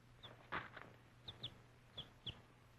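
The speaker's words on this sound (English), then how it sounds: "A chicken?" A chicken clucks in a few short, scattered calls, faint and somewhat distant over a low background hum.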